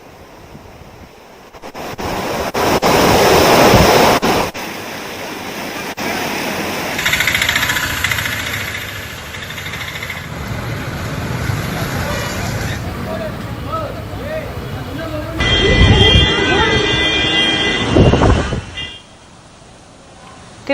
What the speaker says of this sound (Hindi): तिरुपति में भारी बारिश के बाद पानी से सड़कें लबालब भर चुकी हैं।